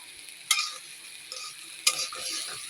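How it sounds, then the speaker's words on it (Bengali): Turmeric, whole cumin and ground spice paste being stirred in a pan for khichuri, with two sharp scrapes and a lighter one in between over a faint sizzle. No talking is heard. "ভালোভাবে নেড়ে নেব।"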